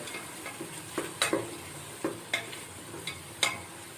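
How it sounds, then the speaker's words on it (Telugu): Ginger garlic paste being stirred in a pan for veg biryani, giving a soft, steady scraping and sizzle marked by a series of sharp spoon clicks against the metal, with no talking. "అల్లం వెల్లుల్లి పేస్ట్ పచ్చివాసన పోయే వరకు మనం ఇలా కలుపుకుంటూ ఉండాలి"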